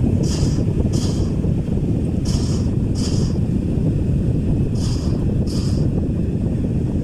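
A Synergy 10-inch floor fan runs at speed two with a steady, loud, broadband whoosh throughout, punctuated by a few short hissy bursts.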